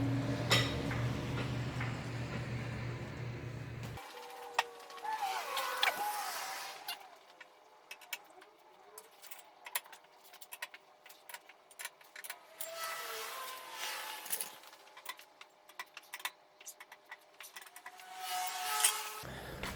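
A lug wrench loosens the wheel lug nuts on a BMW i3 during a swap to snow tires, giving scattered metallic clicks, ticks and ratcheting rubs at close range, with a brief burst of louder noise at the start.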